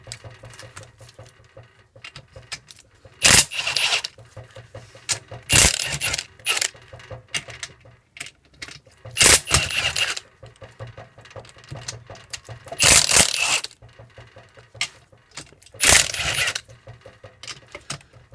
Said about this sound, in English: We're going to remove those 8 bolts.